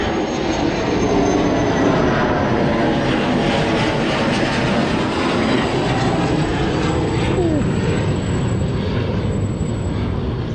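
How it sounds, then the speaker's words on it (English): An F-16 fighter jet passes overhead during an afternoon walk in Hualien, Taiwan, its broad, steady roar filling the whole stretch loud and continuous, with no talk over it. "Oh, there's the F-16."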